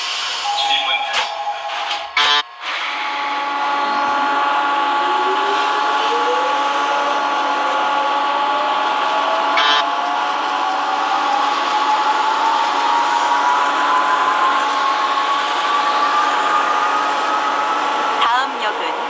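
A Seoul Subway Line 2 train in the simulator game Hmmsim 2 hums steadily with a rising electric motor whine as it accelerates, loud and continuous, with a few clunks near the start.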